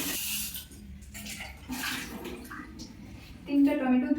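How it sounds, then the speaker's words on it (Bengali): Tomatoes rinsed under a running kitchen tap, a steady splashing hiss of water with bursts of louder splatter as the fruit is handled, heard close by. "তো এগুলো প্রথমে আমি টমেটোগুলো ধুয়ে নিচ্ছি"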